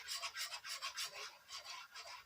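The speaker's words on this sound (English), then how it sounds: "I need to whisk the sauce." A whisk rubs rhythmically against a skillet while mixing meatball sauce, a quick run of soft scraping strokes, fairly quiet and close.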